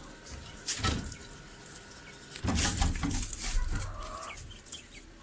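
A hen clucks nearby in a coop holding nests and quail, giving short bursts of low clucks and scratchy rustling over quiet background noise, with no speech.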